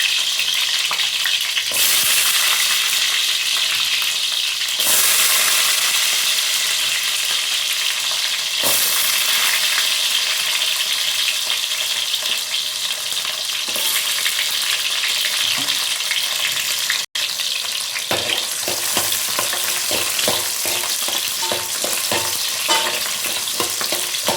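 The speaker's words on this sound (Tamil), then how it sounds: "நான் சின்ன வெங்காயத்தை போட்டு வதக்கிக்கிறேன்." Small shallots sautéing in hot oil for a Kerala-style fish curry, a loud, continuous sizzle with frequent stirring scrapes that grow busier toward the end.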